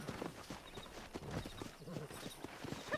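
Wild horses gallop in the video game Red Dead Redemption, their hooves beating a rapid, uneven clip-clop rhythm at moderate distance with no talk over it.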